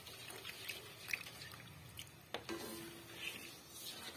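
Thick sinukmani, glutinous rice cooked in coconut milk, stirred steadily in a pot, giving soft wet squishing and sticky dripping sounds close by, with no talk over it.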